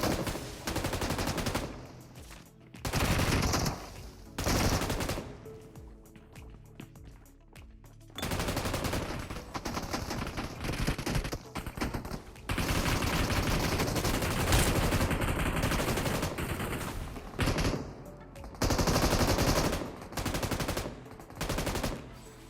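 Bursts of automatic gunfire from the PUBG Mobile battle game, rapid loud volleys repeating across a solo-versus-squad fight with short gaps between exchanges and no talking.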